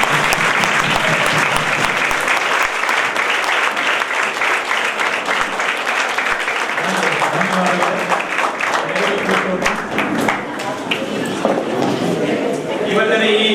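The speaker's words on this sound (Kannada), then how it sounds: "ಎಲ್ಲರೂ ಒಂದು ಸಾರಿ ಎದ್ದು ನಿಂತು ಚಪ್ಪಾಳೆ ಮೂಲಕ ಸ್ವಾಗತಿಸಬೇಕು" Sustained applause from a large audience standing to welcome a guest at a birthday celebration event, dense steady clapping throughout with a voice faintly under it.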